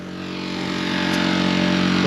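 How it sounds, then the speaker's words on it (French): A generator runs beside a van parked at a campsite, giving a steady mechanical drone that grows slightly louder over two seconds, with no voices. "Là, ce que vous entendez, c'est le groupe Électrogène."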